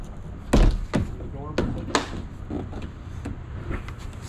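Door on an Aliner A-frame folding pop-up camper opening, with several sharp clunks, knocks and latch taps scattered through the stretch while people talk nearby.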